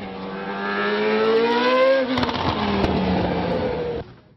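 A Lola B05/52 A1GP race car with a Zytek V8 engine revs up in a rising howl, then lifts off the throttle with crackling exhaust pops before cutting out, loud and close.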